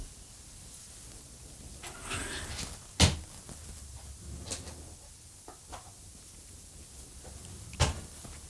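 A cabinet drawer slides open with soft wooden scrapes and a sharp clack, followed by a few quieter knocks and a second clack near the end, close and fairly quiet in a still room.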